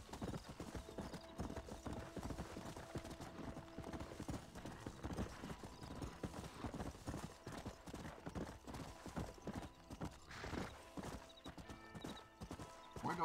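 A horse gallops in the video game Red Dead Redemption, producing a steady, rapid clip-clop of hooves that continues throughout, with faint tonal background sounds underneath.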